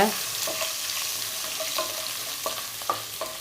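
Four cloves of garlic, coarsely chopped, sauté in oil with fennel seeds during a Tamil-style gongura chicken fry; a steady close sizzle runs throughout, with a few soft spoon scrapes and taps against the pan and no voices.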